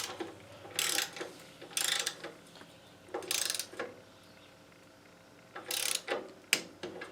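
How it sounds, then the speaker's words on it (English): A torque wrench tightens the head bolts on a Homelite generator to 190 inch-pounds, making several bursts of rapid ratchet clicking separated by short pauses, close and clear against a faint background hum. "now we're ready to torque the head bolts"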